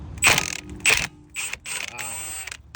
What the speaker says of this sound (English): now get the socket all the way in and hope for the best.